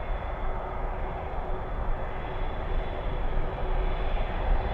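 A jet airliner, a Boeing 777, lands at Anchorage airport with a steady, loud rumbling roar and a faint whine held throughout, heard from a distance.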